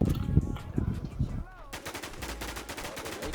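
Rapid bursts of video game gunfire rattle out loud and dense, following a few seconds of muffled talking and thumps.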